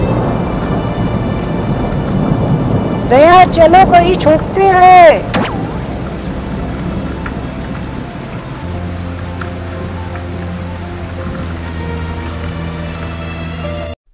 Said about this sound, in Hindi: तभी बारिश चालू हो जाती है।